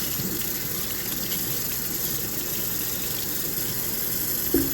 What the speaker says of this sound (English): I'm rinsing it first.